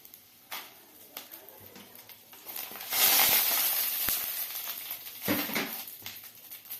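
Dried red chillies sizzling in about a tablespoon of hot oil in a pan while a Rayalaseema red chilli chutney is prepared, a soft steady frying hiss with a louder swell midway and occasional clinks of a utensil against the pan.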